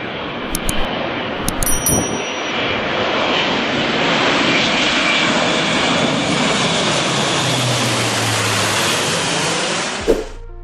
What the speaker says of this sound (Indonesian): Airbus A400M Atlas bukan pesawat angkut biasa